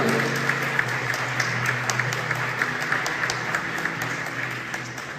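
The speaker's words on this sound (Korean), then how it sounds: "박수 부탁드립니다." Wedding guests at a Korean ceremony applaud steadily, a dense, continuous patter of many hands clapping at moderate distance, with no talk over it.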